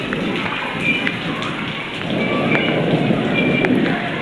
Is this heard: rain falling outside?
yes